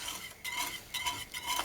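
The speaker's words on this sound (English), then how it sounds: "Just to deglaze that pan." Water hits a hot saucepan to deglaze it after searing wagyu over a fire, giving a soft hissing sizzle broken by scraping and stirring clinks of a utensil against the metal.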